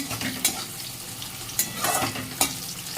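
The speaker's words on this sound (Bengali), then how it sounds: "আর এই যে এখানে উচ্ছেটা ভাজা হচ্ছে" Bitter gourd frying in hot oil in a home kitchen, with a steady sizzle broken by a few sharp scraping stirs of the spatula, close and moderately loud, with no talking.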